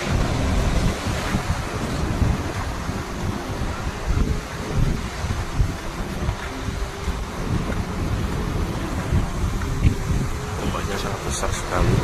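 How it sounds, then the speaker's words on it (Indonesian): Heavy surf crashes continuously onto a beach just west of Yogyakarta airport, a loud broadband roar with wind buffeting the microphone throughout. "Jadi tekanan ombak di sini tuh sangat gede ya, dibandingkan pantai-pantai yang lain"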